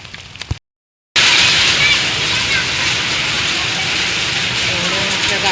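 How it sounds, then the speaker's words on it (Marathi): Heavy hailstorm with large hailstones pelting down, a dense, steady, loud roar of impacts that continues without pause after a brief silent gap near the start. "खूप मोठ्या गारा पडत आहे."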